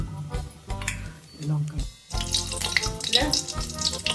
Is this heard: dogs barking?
no